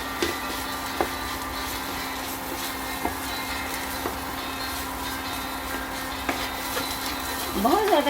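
Ladoo ingredients, about three in equal amounts, are roasted and stirred in a pan. The scraping and stir strokes come close and steady over a low sizzle, with a louder clatter at the end.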